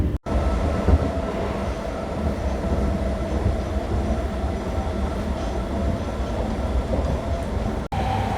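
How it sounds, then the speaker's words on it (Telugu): A MEMU express train rolls out from a station, heard from onboard as a steady, loud rumble of wheels and carriage noise that continues without a break, with a couple of sharp short clicks. "న్యూ జిల్లా రైల్వే స్టేషన్ నుంచి మన ట్రైన్ అయితే బయలుదేరిపోయింది"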